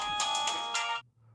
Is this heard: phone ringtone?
yes